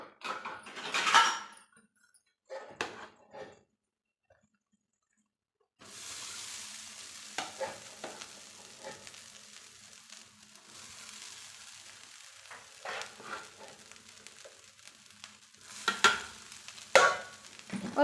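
Cooked rice is stirred with curry leaf powder in a pan, making intermittent scraping and soft frying sounds in bursts, with a brief quiet pause early on before steadier stirring resumes.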